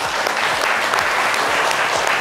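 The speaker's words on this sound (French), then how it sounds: "Merci d'applaudir ce chaleureux public." Applause from a TV studio audience, loud and steady throughout, with no voices.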